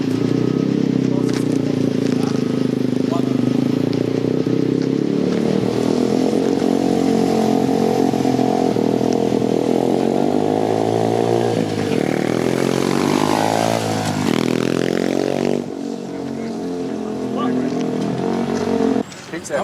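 A dirt bike engine runs loud and close throughout, holding a steady buzzing drone before revving up and down with rising and falling pitch, then dropping to a lower idle near the end, with people talking over it.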